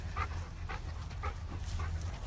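A fast, large dog runs up across open ground, panting in quick, steady bursts that repeat through the moment, fairly close against a constant low background hum, with no one talking.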